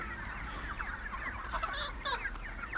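A flock of three-month-old chickens, roosters among them, clucks steadily as a group, with overlapping calls and a few sharper squawks rising above the constant low murmur.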